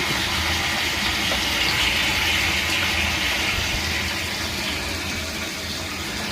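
Muddy rainwater rushes through a pipe into a tank in a continuous loud gushing stream, steady throughout with a low rumbling undertone.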